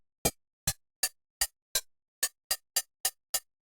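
Synthesized 909-style hi-hat from a preset in FL Studio's Ogun synth, ten crisp, short metallic ticks in a steady pattern, alone and clean.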